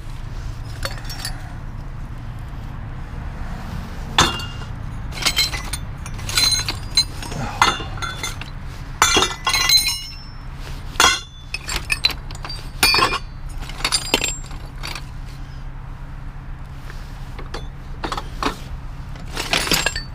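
Scrap brass valves and fittings, some old and some unused, clink and clatter as they are tossed onto a growing pile, giving sharp irregular metallic chinks over a low steady background hum.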